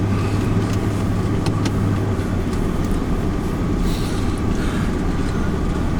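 Inside a car crawling around an estate in low range and second gear, a deep, steady drone of engine and tyres runs throughout with light rattles and creaks, and no voices.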